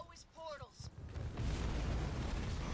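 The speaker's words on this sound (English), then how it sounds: "I don't remember that big-ass explosion." A big in-game explosion from the Halo Wars 2 campaign erupts as a loud, sustained rumbling boom that swells and keeps roaring, following a brief stretch of someone talking.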